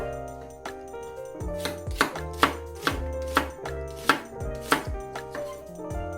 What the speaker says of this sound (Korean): 양파는 갈아 넣으셔도 좋은데 오늘은 그냥 줄기하고 같이 어, 먹을 수 있도록 이렇게 어, 채 썰어서 같이 버무려 가지고